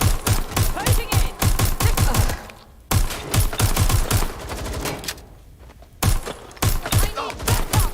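Heavy automatic gunfire in the Watch Dogs Legion video game: loud rapid bursts, brief pauses with quieter shots, then renewed fast volleys, dense and close throughout.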